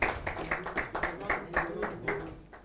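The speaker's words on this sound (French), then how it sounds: "On applaudit s'il vous plaît pour cette équipe." An audience applauds the second-place team at a design contest event, a steady patter of clapping with regular sharp claps from nearby hands, moderately loud.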